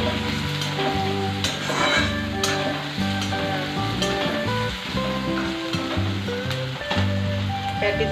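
Onion sautéing in a pan with a little salt, a constant close sizzle with occasional spatula scrapes and stirring clicks throughout.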